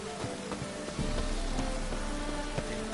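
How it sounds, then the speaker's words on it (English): Rain falling in The Witcher 3, a steady, continuous patter that fills the background at moderate loudness, growing slightly denser after the first second, with no talk. "And it's raining again."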